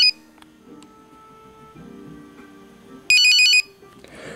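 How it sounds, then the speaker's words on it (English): A short burst of a bright electronic ringtone from a Nokia 5185i phone, a quick run of high beeping tones, rising out of quiet background noise before fading. "That was always my favorite ringtone."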